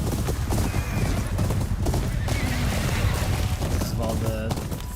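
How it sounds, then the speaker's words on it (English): In Ghost of Yōtei, a pack of horses gallops side by side, a thick, bass-heavy pounding of hooves with a whinny near the end, loud and continuous beneath game noise and voices. "The heavy bass noise when you have other horses riding alongside you."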